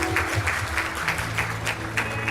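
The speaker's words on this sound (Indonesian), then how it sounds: "Kasih yang meriah tepuk tangan ya Bapak Ibu." Wedding guests applaud during a church wedding blessing, a dense burst of clapping from a crowd with a low hum of the room underneath.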